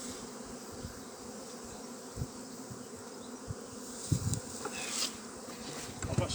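Honey bees buzz around beehives at Maungatautari in a dense, continuous hum close by, with occasional rustles and knocks of hive boxes being handled.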